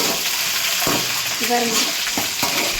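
Ingredients including peanuts sautéing in a hot pan, a loud steady sizzle with scraping stirring strokes near the middle and end.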